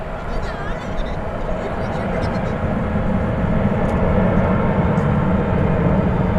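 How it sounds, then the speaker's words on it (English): Qantas jet airliner taxiing toward the takeoff point at DFW Airport, a steady broadband engine roar that slowly grows louder, heard from a distance outdoors. "It's that Qantas flight to not to Melbourne, but to Sydney is on its way to the takeoff point."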